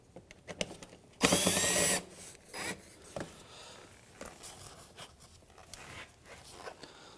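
Phillips head screws come out of the front lower grille of a 2007-2013 Mitsubishi Outlander, a short whirring burst of a power driver followed by faint clicks and handling noises of small parts, close and quiet.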